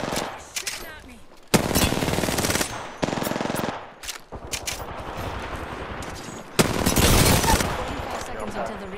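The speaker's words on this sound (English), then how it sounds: "Shooting at me." Automatic weapon fire in Apex Legends, with several loud sustained bursts and short volleys broken by brief pauses, close and dominant.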